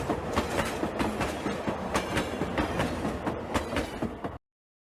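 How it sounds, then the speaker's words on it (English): A train sound effect at maximum speed: a loud, continuous rolling rumble with rapid clickety-clack beats from the wheels on the rails, running steadily before cutting off abruptly. "Rai makes the train travel at maximum speed."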